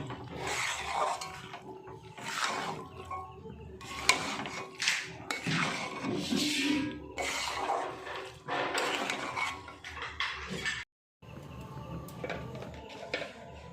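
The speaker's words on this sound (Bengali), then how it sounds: "সেদ্ধ করা মটরটাও দিয়ে দিচ্ছি দিয়ে এবার ভালো করে নাড়াচাড়া করে নিচ্ছি" Boiled peas for ghugni, cooked with goat fat, are stirred in a pot: repeated rough scraping and rubbing strokes of a spoon against the metal, in uneven bursts with a brief pause near the end.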